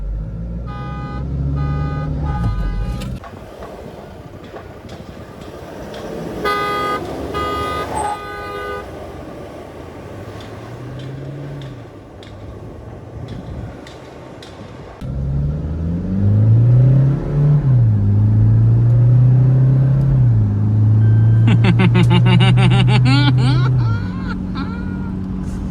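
Toyota Fortuner 2022 SUV in sports mode accelerating in a drag race against a Ford Endeavour 3.2, its engine rising and revving loudly inside the cabin with a horn-like tone and people talking.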